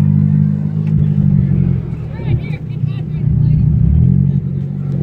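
A turbocharged drift car revs and accelerates at a drift event, a loud continuous engine drone that dips briefly mid-clip before swelling again, with crowd chatter and voices mixed underneath.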